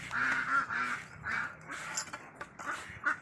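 A flock of ducks quacking close by, rapid overlapping nasal calls in irregular bursts throughout.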